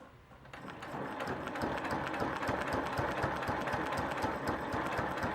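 A sewing machine runs steadily at close range, its needle hammering in a fast, even rhythm with a mechanical whir underneath while stitching a scallop quilting pattern, starting after a brief quieter moment.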